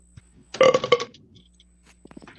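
A single loud, rumbling burp lasting about half a second, with faint room noise before and after.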